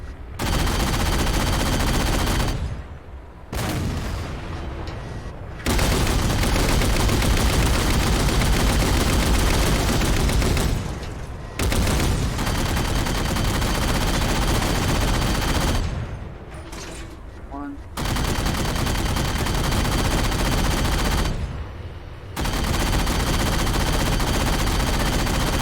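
Repeated bursts of gunfire aimed at a target, rapid volleys lasting several seconds each and separated by short pauses, loud and close throughout.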